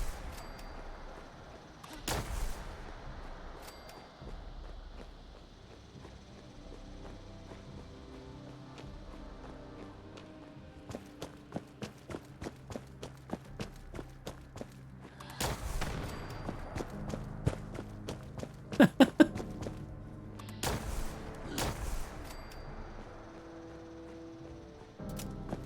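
Gunfire in the video game Fallout 76 comes as sharp, loud single shots scattered irregularly over a long stretch, with clusters of rapid cracks near the end and no talking.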